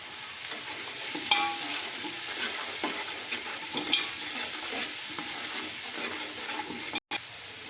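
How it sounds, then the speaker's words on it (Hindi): Peas frying with spices in a pan for an aloo matar rice dish, a constant hiss of sizzling with repeated stirring scrapes and small clicks, close and steady, no talk. "मैंने मसाले के साथ ना मटर इसलिए डाल दिए थे कि ज़रा ना इनकी अच्छी तरह भुनाई हो जाएगी"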